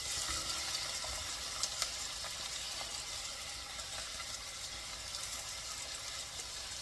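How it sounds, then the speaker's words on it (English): Onions sautéing in a pan toward golden brown for butter rice give a soft, steady, low-level sizzle with a few small pops and crackles throughout, heard close and without any talking. "you want to saute these onions until they're golden brown"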